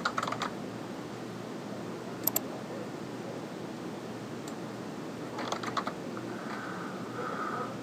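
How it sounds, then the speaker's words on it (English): Someone types Excel formulas on a computer keyboard, with a few faint, sparse key clicks and short flurries over a steady background hiss. "Oh, we have to type equals."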